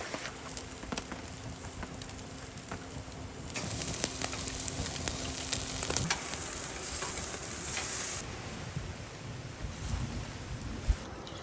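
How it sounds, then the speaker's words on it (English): Steaks sizzle over a wood-fired camping fire pit outdoors, a steady close frying hiss with crackles and occasional pops, some wind rumble in the background, and no speech. "Steaks are cooking."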